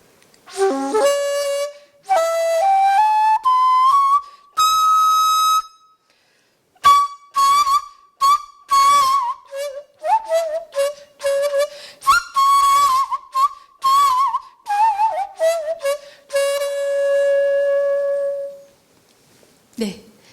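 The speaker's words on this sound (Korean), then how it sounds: "네, 이게 바로 산조대금입니다." A sanjo daegeum, the Korean bamboo flute, played solo in a concert setting: clear, loud breathy tones rising in pitch, long held notes with bends and quick ornamented phrases, separated by brief pauses.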